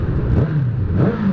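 Motorbike engine revving hard as riders pull a wheelie outdoors, a brief loud droning rev that rises and holds for just over a second.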